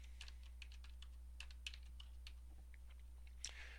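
Keystrokes on a computer keyboard entering a business postal code into a form, light irregular clicks in short bursts, close and quiet over a steady low hum, no talking.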